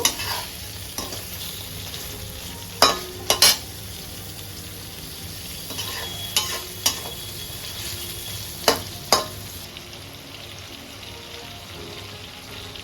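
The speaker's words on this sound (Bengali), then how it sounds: "এটা ভালো করে ভাজা ভাজা করে নেব।" Onions frying in a pan for a Bengali prawn malai curry, a steady close sizzle with a few sharp clicks and scrapes of stirring scattered throughout, no talking.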